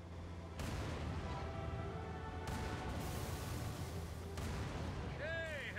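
A Scorpion tank fires its cannon in the Halo 3 video game, with booming blasts over a constant dense rumble of in-game battle noise. A voice is heard briefly near the end.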